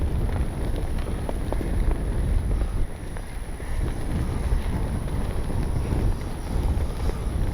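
Steady wind buffets the microphone at an RC plane flying field where a Corsair warbird model is flown, a constant broadband rush that fills the whole stretch with no talk.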